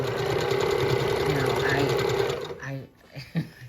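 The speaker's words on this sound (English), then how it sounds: "I'm just going to finish stitching this one." A sewing machine stitches a Tula Pink fabric quilt top in a steady, close, rapid whir that runs continuously, then stops near the end, leaving a few faint handling bumps.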